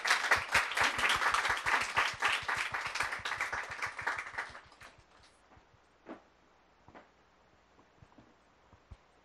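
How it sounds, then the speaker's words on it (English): An audience applauds a reader introduced as Jasmin at a literary event on new Iranian literature. Loud, dense clapping runs for about four and a half seconds, then thins to a few scattered claps that die away into quiet. "round of applause for Jasmin."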